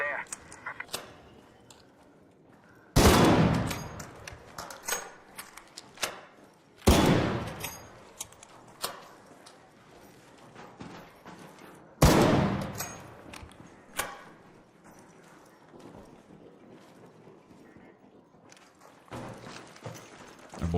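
Grenade explosions and gunfire in the Arc Raiders video game: three loud booming blasts with long decaying tails, and scattered sharp shots and thuds between them. Voices talk intermittently.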